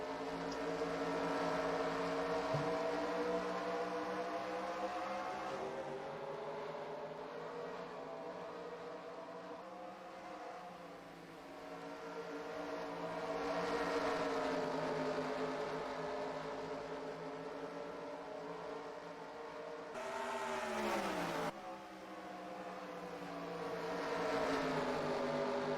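Race cars roar together as a field of stock cars heads to the green flag at Richmond in NASCAR Racing 2003. The engine drone is loud and continuous and rises and falls in pitch over about 25 seconds, with no talking.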